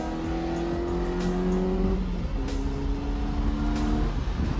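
A Renault Clio track car's engine drones loudly at close range while cornering, its pitch rising and easing across two revving sweeps, with no talk.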